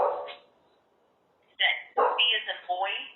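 A dog barks in a few loud, close bursts after a short pause, with a voice talking at the start near an apartment.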